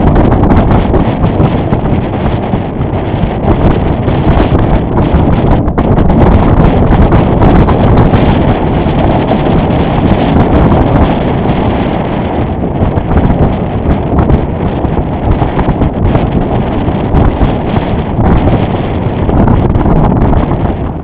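Strong wind roaring over a Potter 15 sailboat near a cove and breakwater, a loud, constant buffeting rush hitting the microphone for the whole stretch, no voices.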